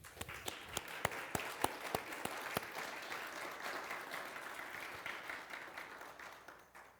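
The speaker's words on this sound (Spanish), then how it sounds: "Denle un fuerte aplauso al Señor." A church congregation claps after a sermon, starting with several sharp distinct claps that quickly swell into continuous, even applause, fairly faint and distant, fading toward the end.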